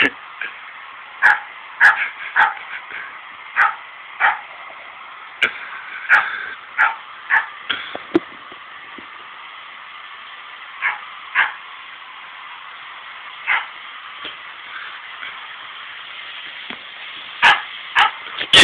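A small dog barks repeatedly at a dog barking in a video playing on a laptop, with sharp yips and bow-wows in irregular bursts close by, while people talk throughout.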